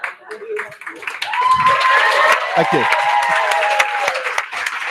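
Audience applause at a graduation project pitch event, a steady wash of clapping rising after a brief spoken thanks and continuing under a presenter's voice.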